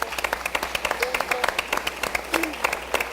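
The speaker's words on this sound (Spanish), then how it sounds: "Vamos a darle un aplauso" A studio audience at an educational TV program applauds with steady, crisp clapping that continues throughout at moderate volume, with a faint voice or two underneath.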